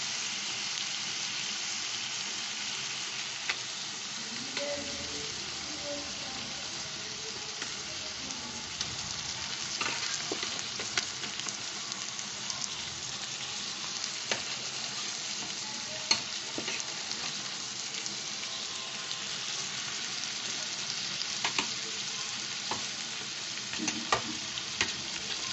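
Marinated chicken frying in a pan for chicken dak bungalow, a low, steady sizzle with scattered small pops and occasional stirring scrapes throughout, fairly faint and with no talking.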